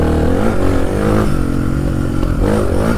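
A Suzuki DR 350 enduro motorcycle rides close by, its engine loud and revving steadily through gear changes, with some mechanical clatter and no voices.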